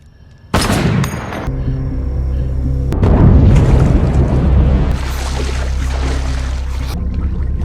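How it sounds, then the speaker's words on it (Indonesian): A sudden loud gunshot bursts out, followed by sustained booming rumble and noisy clatter, like cinematic gunfire with heavy reverberation and a dramatic music bed. "tembakan tersebut malah mengenai putra Gomez"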